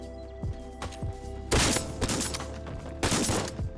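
Gunfire in the Forward Assault shooter game, with sharp close shots and two loud bursts of rapid fire over a steady tonal game hum.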